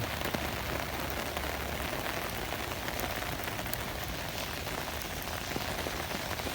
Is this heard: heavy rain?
yes